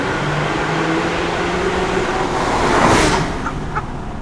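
Porsche 911 Carrera 4 GTS with the window down, pulling in second gear through a tunnel, a steady engine drone that swells and peaks near the end before easing off.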